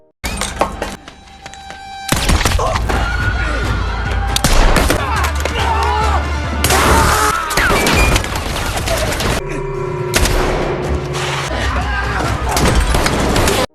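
Gunfire in a film fight scene, heard as sustained bursts of rapid shots and booming impacts, loud and close, mixed with shouting voices, music and crashing effects.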